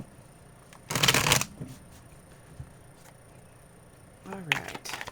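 Tarot cards shuffled by hand, with a loud crisp riffle of the deck up close, a few soft taps, and a second burst of shuffling near the end.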